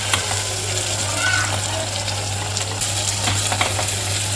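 Onions sizzle in hot oil for hotel-style rava kichadi while a spoon stirs them now and then, a steady close frying hiss over a low constant hum, without speech.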